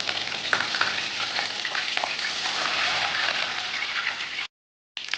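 Curry leaves crackling in hot oil with tempering spices for an amaranth leaf fry, a dense continuous sizzle with scattered pops, loud and close, then a short silence before it resumes.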